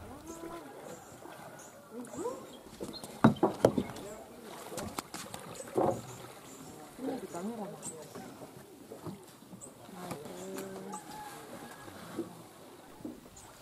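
A small, simple outboard-motor boat travels on the sea, its motor a faint, steady drone under wind and occasional splashes and knocks, with a voice talking at times over it.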